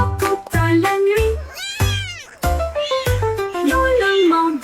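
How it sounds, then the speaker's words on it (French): A cat meows again and again, loud and close, a string of drawn-out cries with brief pauses between them. "Miaulement de joie toute la nuit."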